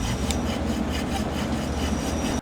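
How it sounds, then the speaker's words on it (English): Steady rasping, scraping building noise, like sawing or rubbing on wood, continuous and fairly close with a low rumble beneath. "if I open a window, you get loads of building noise"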